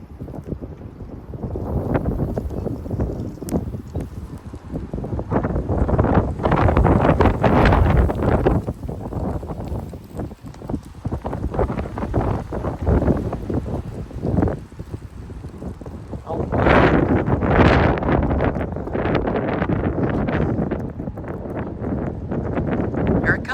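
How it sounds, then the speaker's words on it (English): Strong wind gusts in a West Texas dust storm buffet the microphone with loud, continuous roaring, swelling and easing in waves and surging again near the end. "Wind's picking up."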